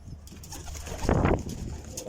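A domestic pigeon coos once, a soft low throaty call swelling near the middle, close by and clear against light background noise, with no talking.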